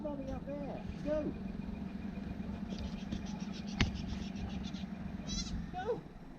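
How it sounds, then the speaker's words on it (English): Rescued goat near a beach on Nevis giving a few short, faint bleats against a low background rumble, with voices nearby and a sharp click partway through. "We are saving a goat."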